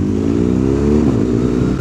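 Motorcycle engine running loud and close, its exhaust giving a rough, pulsing burble with uneven pops and burps, the pitch shifting slightly as it revs.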